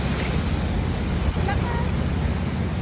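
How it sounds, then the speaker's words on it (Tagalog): Strong seaside wind buffets the microphone at Big Lagoon in Palawan, producing a loud, continuous roaring rush with gusty swells and no break. "Tingnan mo, hinahangin ako."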